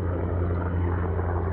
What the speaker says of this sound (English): There's a helicopter right there. Kind of looks like... Might be a Black Hawk.